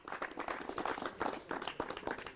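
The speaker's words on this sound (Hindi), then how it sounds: "अपने लिए भी जोरदार तालियां बजाइए।" Farmers and experts seated on stage at an agricultural discussion forum clap for themselves, rapid uneven clapping that sounds close and fairly quiet, rising and falling across its short length.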